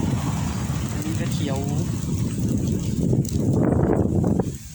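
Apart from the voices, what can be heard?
wind blowing at mountain viewpoint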